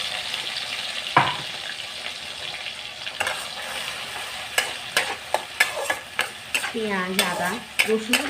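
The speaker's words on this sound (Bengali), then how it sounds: "ভালো করে পেঁয়াজ আদাটাকে তেলের মধ্যে নাড়াচাড়া করতে হবে।" Onion, ginger and garlic fry in hot oil in a kadai, stirred with a spoon that scrapes and clinks against the pan in quick bursts over a steady close sizzle.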